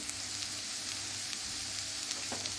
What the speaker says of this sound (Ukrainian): Цибулька з морквою протушкувалися, вони прозорі стали. І до неї зараз додаю капусту.